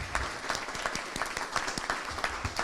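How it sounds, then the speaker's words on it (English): An audience applauding at the opening of a Lincoln Depot visitor's center in Peekskill, a sustained patter of many hands, fairly faint and distant, with scattered sharper claps. "I think John needs a round of applause."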